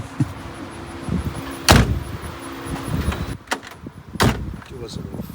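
The door of a classic car being opened and closed, with a couple of sharp, solid thumps and clunks from close by over steady background noise, while people speak quietly nearby.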